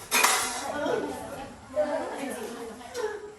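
Cooking pots, glasses, a basin and spoons clink and clatter together in a few close, brief bursts, set out as gear for a school cooking lesson.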